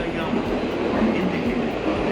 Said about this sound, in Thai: บรรยากาศสถานี